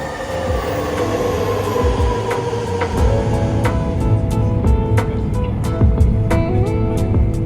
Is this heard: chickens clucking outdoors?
no